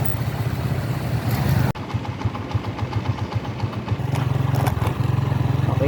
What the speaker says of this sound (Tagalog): Traffic na mga kaibigan, dami ng motor dito sa may motor lane.